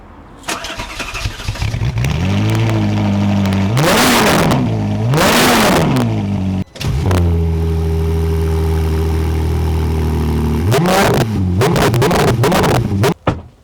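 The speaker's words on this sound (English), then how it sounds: "the cold start on the 458 is definitely the one." Ferrari 458 cold start, the engine catching with a loud bark, then repeated revs climbing and falling before settling into a high, steady idle and a final blip of throttle, close and loud.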